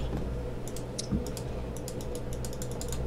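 Rapid keystrokes on a computer keyboard, light irregular clicks at close range over a steady background hum, no talking.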